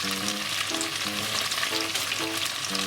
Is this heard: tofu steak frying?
yes